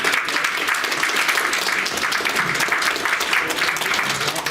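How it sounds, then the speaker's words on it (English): An audience at a public policy forum applauds in a steady, dense wash of clapping that holds at an even level throughout, with no voices standing out. "let's have another round of applause for our..."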